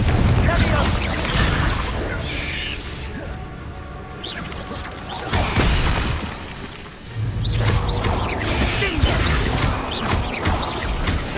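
Loud, booming Confringo spell blasts erupt repeatedly in Hogwarts Legacy combat, crashing explosions and whooshes layered with other spell impacts under a character's spoken incantations.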